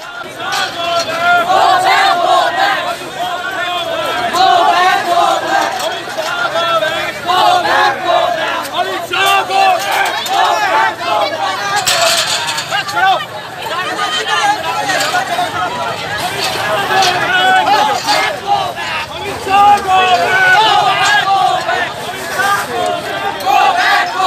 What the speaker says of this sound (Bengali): বামেদের ঘোষিত কর্মসূচি অনুযায়ী বিমানবন্দর সহ শহরের একাধিক জায়গায় বিক্ষোভ দেখানো হয়